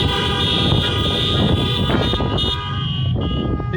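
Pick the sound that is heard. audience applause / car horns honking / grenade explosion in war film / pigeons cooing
car horns honking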